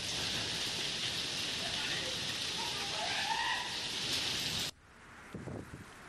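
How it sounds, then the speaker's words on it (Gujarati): Steady heavy rain with hail in the Jodhpur area pours as a dense, continuous hiss, then cuts off abruptly near the end, leaving a quieter background with a few faint bumps. "જોધપુર વિસ્તારમાં કરા સાથે જે વરસાદી માહોલ જામ્યો તેના આજે દ્રશ્યો છે તે સામે આવ્યા છે"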